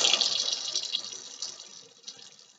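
A tap runs water into a kitchen island sink, giving a close hiss and splash that fades gradually over a couple of seconds.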